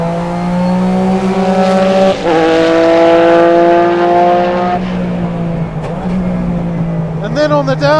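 Ex-works Porsche 996 GT3 RSR race car engine holding loud, steady high revs with strong harmonic drone, dipping briefly at a quick upshift made by lifting off the throttle, then pulling again and settling toward another shift near the end.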